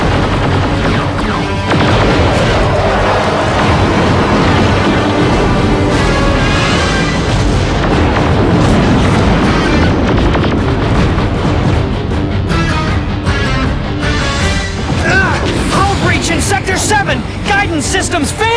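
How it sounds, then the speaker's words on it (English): Two large spaceships trade fire in a Beast Wars cartoon space battle, a dense continuous wall of booming blasts, explosions and rumbling effects, loud and close, with voices mixed into the din. "We open in space as 2 large ships attack each other."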